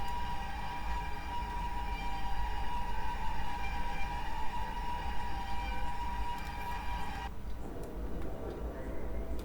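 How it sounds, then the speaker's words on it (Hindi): In the MSTS railway simulator, an Ahmedabad–Mumbai double decker express sounds a long, steady horn while leaving the platform, the tone cutting off near the end as the train's low rumble continues. "धीरे धीरे हम हॉर्न बजा के प्लेटफॉर्म छोड़ रहे हैं।"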